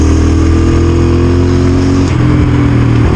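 A dirt bike revs loud and close in fifth gear, its engine droning steadily with a slight shift in pitch partway through.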